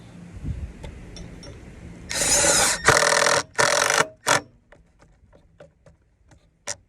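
Screws driven into a wooden board on a cabin wall in the woods, heard as four short, fairly loud whirring bursts in a row, followed by faint scattered clicks and taps.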